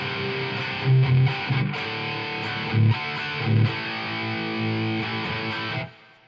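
A heavily distorted metal electric guitar plays through a Marshall Code 50 amp with reverb, with steady sustained chords, a few chugging low accents, and a reverb tail fading at the end.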